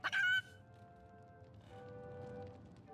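A chicken clucks once, short and loud, in the Divinity: Original Sin video game, then a quieter steady game ambience with a low hum carries on.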